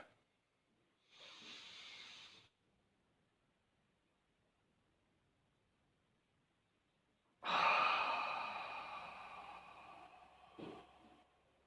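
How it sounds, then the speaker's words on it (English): One person does 4-7-8 breathwork: a soft breathy inhale lasting over a second, a long silent hold, then a louder drawn-out hissing exhale of about three seconds, close and alone. "it's inhale 4, hold for 7, and exhale for 8"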